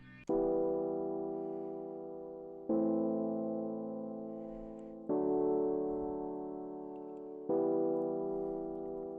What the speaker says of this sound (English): which is a piano preset in Purity, which is called Dirty Suitcase